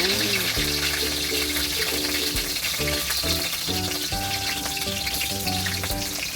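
Garlic sizzles briskly in a pan for egg lugaw, a loud continuous crackling hiss running under a steady tonal hum that shifts pitch now and then.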